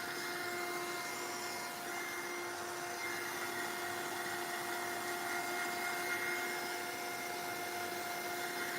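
A dryer blows steadily on diluted paint across a mixed-media artwork, giving a constant, fairly quiet whirring hum with a fixed tone and no pauses.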